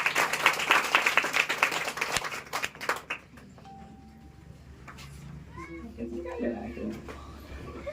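Applause for a student called up in a classroom, dense clapping for about three seconds that then fades out, followed by quieter room noise and a few faint voices.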